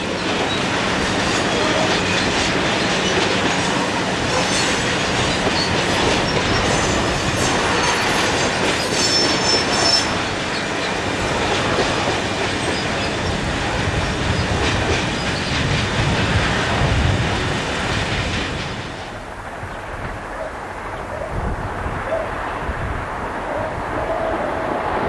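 Freight train with wagons built to the UK loading gauge departing a yard bound for Wembley Yard, London, wheels clattering and squealing loudly, rolling steadily past nearby before the noise drops off sharply near the end.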